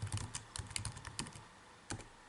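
Quick bursts of keystrokes clatter on a computer keyboard while entering code in MATLAB, pausing briefly before a final firmer press of the enter key.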